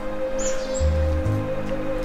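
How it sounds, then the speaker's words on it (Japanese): Small birds chirp briefly in the background over a steady outdoor hum on a mountainside near a temple, a couple of quick high tweets near the start. "小鳥の鳴き声。"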